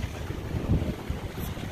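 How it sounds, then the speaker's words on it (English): Soft wind rumbles against the microphone in low gusts, faint and steady, with no other clear sounds. "It's getting to be a little windy."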